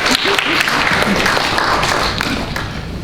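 An audience at a public meeting in a historic house museum claps loudly and continuously, a dense, close wash of handclaps with some thumps and a few voices mixed in.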